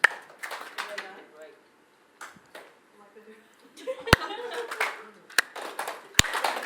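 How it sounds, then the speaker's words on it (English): Wedding guests applaud the newlyweds Mark and David in scattered bursts of hand claps with a few sharp, loud single claps, and voices talk between and over the clapping. "A round of applause. Keep it going for these guys."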